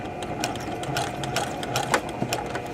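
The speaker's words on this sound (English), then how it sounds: "I'm going to start my machine slowly." A sewing machine runs slowly while stitching a seam in fabric, a soft rhythmic mechanical whir and clatter of the needle, close and steady with slight irregular ticks, no talk.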